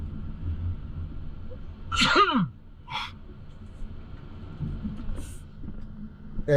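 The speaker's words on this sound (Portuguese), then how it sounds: "Acho que eu vou espirrar, peraí." A single loud sneeze bursts out suddenly, followed by a short sharp exhale, against faint background hum.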